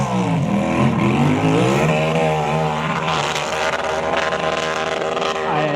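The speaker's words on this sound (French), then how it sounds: "la moto au rupteur." A racing motorcycle climbs a steep hill at an impossible-climb event in Arette, its engine screaming hard against the rev limiter in a loud, sustained, buzzing wail that shifts slightly in pitch.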